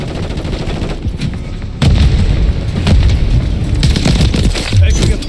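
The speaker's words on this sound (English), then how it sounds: "Taking effective fire." Loud, dense video game gunfire, with overlapping shots and booming impacts in fast succession throughout, growing heavier partway through.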